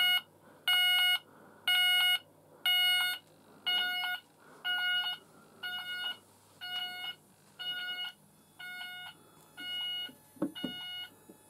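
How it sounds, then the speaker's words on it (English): An S2 sounder's find-device function during a garage addressable fire alarm system test gives a steady series of about twelve evenly spaced electronic beeps, each one fading slightly, with brief handling noise near the end. "that's the find device on the S2 sounder"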